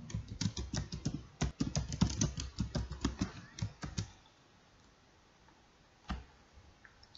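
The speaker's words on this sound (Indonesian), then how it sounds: "Kita ketik lagi." Computer keyboard typing heard up close: a rapid, uneven run of clicking keystrokes for about four seconds, then quiet apart from one lone keypress a little later.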